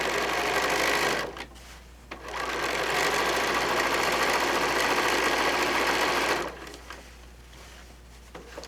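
Sewing machine running close and loud as it double stitches the handles of a fat quarter fabric bag: a brief burst, a short pause, then one long steady whirring run before it slows and stops.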